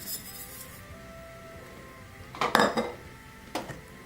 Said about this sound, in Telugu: ఇప్పుడు దీనిలో మనం ఈ పల్లీ పౌడర్ని వేసేసుకుని కలుపుకుందాం.